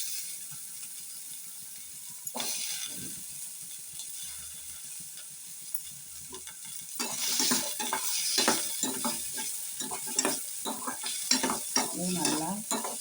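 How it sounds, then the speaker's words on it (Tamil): Onion and coconut sautéing in a little oil for a chicken gravy masala, with stirring scrapes and a soft sizzle that grows louder and busier in the second half, close and steady with no talk. "பெரிய வெங்காயம், தேங்காய் ரெண்டையும் நல்லா வதக்கணும். ஆயிலே போட்டு வதக்கணும்."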